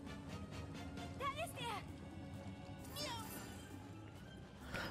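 Cat meows from Final Fantasy VII Rebirth, a few short rising calls around mid-clip over steady game music and ambience, with talk throughout.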